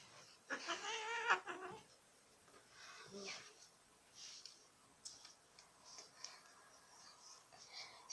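A pet cat meows indoors at home, a few short close calls early on, followed by quiet room sounds and faint ticking.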